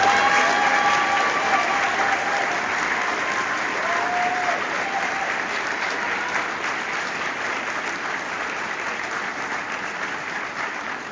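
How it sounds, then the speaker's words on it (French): A press conference audience in Paris applauds strongly, a dense, sustained wash of clapping that stays loud throughout and fades only slightly toward the end. "que je vous demande d'applaudir fortement, s'il vous plaît"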